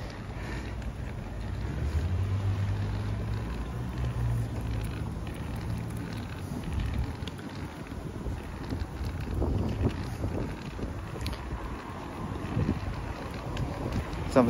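Wind blowing outdoors, a steady low rumbling buffet against the microphone that holds through the whole stretch, with no talk.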